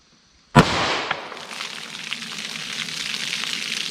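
A single sharp 10mm pistol shot firing a flat-nose round, a loud close crack that rings out and decays into a long, hissing outdoor tail.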